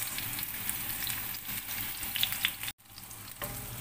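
Garlic and onion fry and get stirred in a pan for misua with sardines, a close, steady crackling sizzle with light spatula scrapes and a brief cut near the end, no talking.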